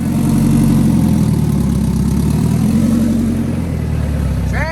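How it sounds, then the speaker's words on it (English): Engine in a Turbo B Series car build runs at a loud, steady idle with the transmission spinning, a constant low rumble throughout that ends in a short rising whine. "Trans is spinning."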